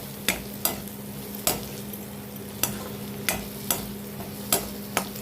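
Carrot chutney ingredients with tamarind sautéing in a pan, heard as a steady low sizzle with regular sharp clicks of a spoon stirring against the metal, close and moderately loud.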